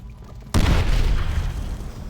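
A grenade explodes in the World at War video game with a sudden deep boom that cuts in after a quiet moment, then a heavy rumbling roar that fades slowly.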